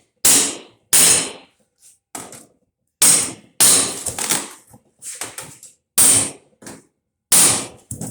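Sharp metallic hammer whacks knocking rivets out of a scrapped dehumidifier's casing, several loud isolated strikes with ringing decay, some in quick pairs, separated by short pauses.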